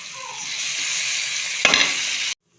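Onions and tomato sautéing in a pan, a steady close sizzle with a brief burst of stirring scrapes near the end before it cuts off abruptly.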